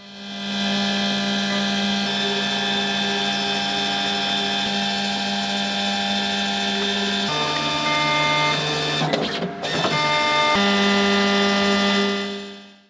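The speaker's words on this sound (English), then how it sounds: "Then we're printing the 5 colors." A screen printer lays down five colors on graphic overlays in a steady, loud mechanical drone with a constant tonal hum. Partway through, the pitch shifts and a short clattering burst is heard before the hum returns.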